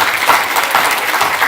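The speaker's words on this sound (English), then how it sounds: "Can we please give them a round of applause?" A brief burst of dense applause from a crowd at a brunch event, loud and steady throughout, with no talk over it.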